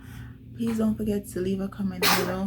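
A single sharp sneeze bursts out near the end, right after someone talking to the camera in a home setting.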